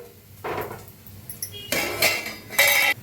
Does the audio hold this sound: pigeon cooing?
no